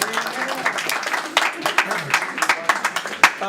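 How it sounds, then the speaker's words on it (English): An audience at a youth night event claps in scattered, uneven bursts of modest applause, mixed with voices and light cheering. "Y'all can clap for him."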